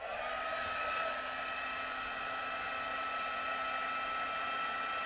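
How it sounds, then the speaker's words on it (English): A heat tool blows a steady, continuous whir while melting embossing powder on vellum for a stamped card, loud and unbroken throughout with no talking. "So I'm going to add my embossing powder, tap off the excess, and then we're going to heat this."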